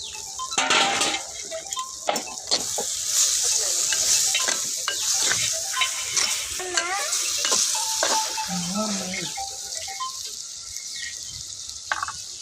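Chicken frying in a pan while it is stirred, with a steady bright sizzle and scraping spoon strokes throughout, close and fairly loud, and no one talking.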